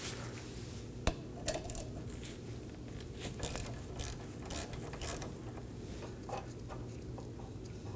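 A ratchet loosening the 11mm brake hose bolt on a Chevrolet Equinox rear caliper, with rapid close pawl clicking in bursts and a sharp metallic knock near the start, with no talking.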